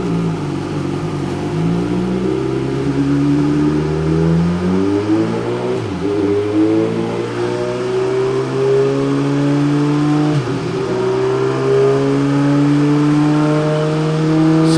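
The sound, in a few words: Suzuki GSX-R1000 motorcycle engine on a test ride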